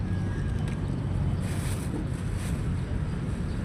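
Wind blows across a fishing spot by the water, a steady rushing roar with gusty buffeting on the microphone.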